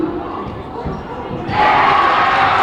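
A gym crowd at a high school boys basketball game between BHS and Wakefield murmurs, then suddenly erupts into loud sustained cheering after a made free throw.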